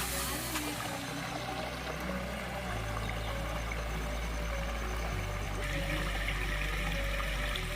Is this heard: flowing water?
yes